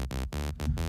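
Serum's MB Saw oscillator with unison set to 1 plays short gritty sawtooth synth notes in a choppy rhythm, three or four loud bursts separated by brief gaps, alone with no talking.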